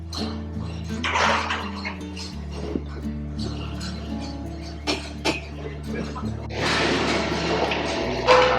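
Water from a bucket splashes into a large cooking pot for a 5 kg village-style mushroom dum biryani, with a gushing pour early on and a heavier rush near the end amid kitchen clatter.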